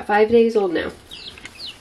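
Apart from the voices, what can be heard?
baby chicks peeping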